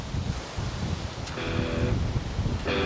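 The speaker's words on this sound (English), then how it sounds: "It's super windy up here." Strong wind rushes across an exposed mountain top, buffeting the microphone in a steady, loud roar, with a couple of brief tonal sounds cutting through.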